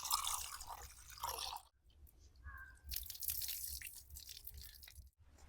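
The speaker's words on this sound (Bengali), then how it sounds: "চলুন মুসুরি ডালটাকে ধুয়ে নিই" Red lentils (masoor dal) are rinsed in water by hand, giving close, soft sloshing and dripping with brief grainy rustles, broken by short quiet gaps.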